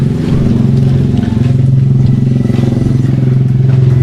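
A motorcycle rolls in over still-wet cement at a birthday gathering, its engine a steady, close, loud rumble that holds evenly throughout with no talk over it.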